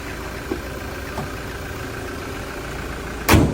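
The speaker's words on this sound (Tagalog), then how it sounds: "kita natin dito na sugwak-sugwak na talaga yung tambutso natin" A car idles with a worn, broken exhaust, giving a steady low rumble with faint irregular sputters, then a sharp loud burst near the end.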